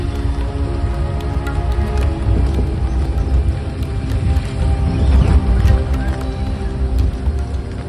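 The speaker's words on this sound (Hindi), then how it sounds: "तेज बारिश हो गई है." Heavy rain falls during a morning jungle safari at Satpura wildlife reserve in India, a loud continuous patter on surfaces that swells slightly in intensity, with a faint rumble beneath.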